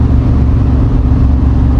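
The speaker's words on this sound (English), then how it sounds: "it sounds like an old muscle car" A 1970 Dodge Challenger muscle car engine rumbles loudly and close, a deep steady throbbing growl through the exhaust, with no voices.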